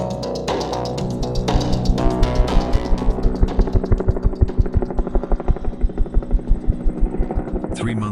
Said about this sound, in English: the helicopter touches down at the same landing zone Armstrong used 53 years earlier.